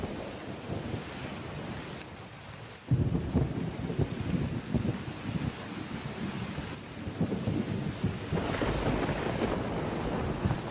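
A cartoon thunderstorm with heavy rain, a steady downpour hiss broken by a sudden loud thunder crack and rolling rumbles that swell again later.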